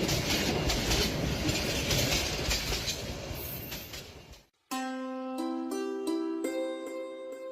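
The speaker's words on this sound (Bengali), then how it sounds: "ট্রেন যে গতিতে চলছে তাতে মনে হচ্ছে বিকেলের আগেই পৌঁছে যাব।" A cartoon train rumbles along the tracks with a dense, loud clatter for several seconds, then cuts to a bright melodic chime sequence of sustained tones after a short silence.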